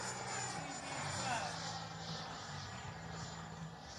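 FMS Integral 80mm RC jet's electric ducted fan spinning up, a steady broadband whoosh and whine with a faint high tone, close and loud throughout with a slight surge mid-way.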